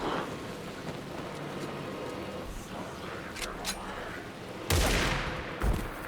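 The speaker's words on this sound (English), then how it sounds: "Over here shooting bullets." Gunfire in the video game Alan Wake II, a dense rattling burst of shots over a noisy rain-like background, with a couple of louder blasts near the end and no talk.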